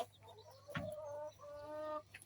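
A brooding hen clucks close by in drawn-out, throaty calls, two longer murmuring phrases with a short break between them.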